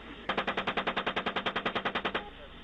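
A single sustained machine gun burst in military combat footage, about twenty rapid evenly spaced shots lasting around two seconds, loud and close.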